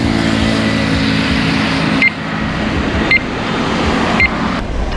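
An aftermarket remote anti-theft alarm on a Yamaha R15 motorcycle gives short, sharp electronic chirps, four spaced beeps over a loud, steady background hum.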